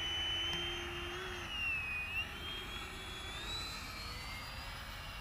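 A steady, distant jet roar from an F-4 Phantom in flight inside a video game, a continuous whooshing drone with thin whining tones drifting up and down over it.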